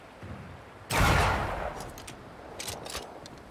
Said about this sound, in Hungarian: Valami lövéseket lehetett hallani.